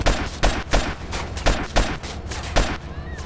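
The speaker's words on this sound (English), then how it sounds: "I gotta shoot the sniper men, then the AK-47 man" Rapid bursts of gunfire in GTA San Andreas with a hard-mode mod, a steady run of close, loud shots roughly every third of a second, with no talk.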